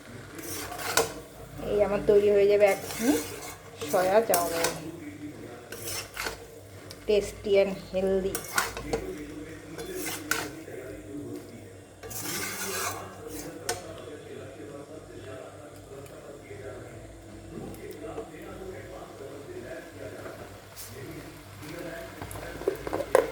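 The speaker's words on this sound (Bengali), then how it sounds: "এটাকে আমি এখন ভালো করে মিশিয়ে নেব" A utensil scrapes and clinks against a pan while soya chowmein is mixed, making irregular metallic scraping and knocks up close, then quieter stirring, with a voice speaking over parts of it.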